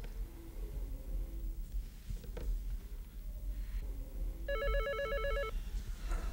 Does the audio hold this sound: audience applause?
no